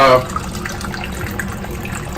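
Water pours from a tap into a pot of mixed lentils that already holds water, a steady close filling rush with a brief louder splash at the start and end.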